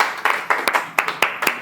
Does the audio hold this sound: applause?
yes